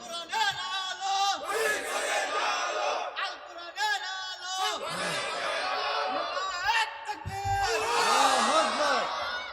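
A crowd at an Islamic religious gathering, a tafsir sermon, chants slogans in loud, overlapping voices that rise and fall in waves and carry steadily through the whole stretch.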